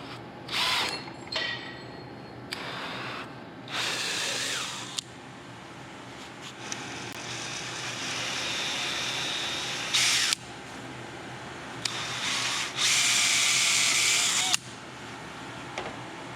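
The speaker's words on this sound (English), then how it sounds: "You got to drill 2 holes." Power drill boring two holes for a seat install on a John Deere 4630 sprayer, several separate whining bursts of varying length with short pauses between them, close and fairly loud, with no talking.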